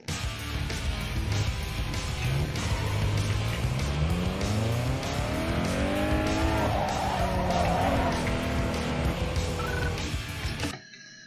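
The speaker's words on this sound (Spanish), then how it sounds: "Bien, otro derrape más." A drifting car in Need for Speed Underground 2, its engine revving and climbing in pitch while the tires squeal through a long slide, loud and continuous before cutting off abruptly.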